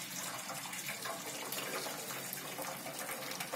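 A soft, steady trickle of cooked moong dal water pouring through a sieve, a continuous watery splashing with no talking.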